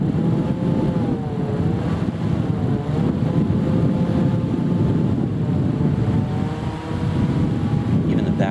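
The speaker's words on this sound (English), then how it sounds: "You can hear that motor went down a little bit." A small motor driven by a portable 5W solar panel whirs steadily outdoors, its hum dipping slightly in pitch partway through, with wind noise rushing over the microphone throughout.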